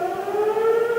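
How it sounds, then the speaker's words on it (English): An ambulance siren wails in a steady, sustained tone, loud and unbroken, with no voices over it. "It sounds like an ambulance."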